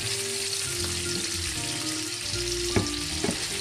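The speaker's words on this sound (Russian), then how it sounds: "лучок наш со шпеком уже поджарился" Onion and speck frying in a pan, a steady close sizzle with crackling, joined near the end by a couple of sharp clinks of a utensil against the pan.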